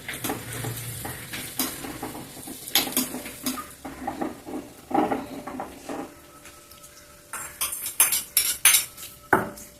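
Curd rice is mixed with salt, a spoon or hand working through it in a bowl, giving irregular clinks and scrapes of cutlery against dishware at close range, with no talking.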